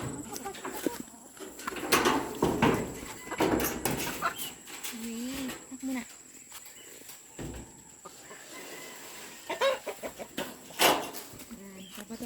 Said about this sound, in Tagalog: tayo ngayon magpapatuka ng manok